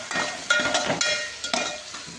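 Dried cucumber curry with tomato and onion cooking in a pan: a steady sizzle broken by rhythmic scraping stirs of a spoon against the pan, close and clear.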